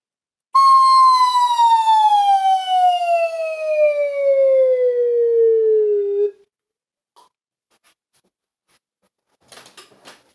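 A slide whistle, a plunger flute, plays one long, loud, clear tone that glides steadily downward for about six seconds, followed by silence and faint rustling.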